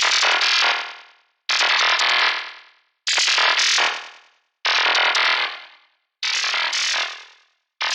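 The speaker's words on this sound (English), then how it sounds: "Bit of delay." An Albino 3 synthesizer plays filter FM notes through a delay effect, five bright, buzzy, distorted stabs, each sustaining and then fading to silence before the next.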